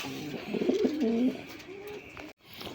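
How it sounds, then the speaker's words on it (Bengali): A racing pigeon coos up close, a throaty rolling call in the first half, followed by quieter rustling. "বন্ধুরা এখানে একজোড়া সবজি রেসার কবুতর আছে"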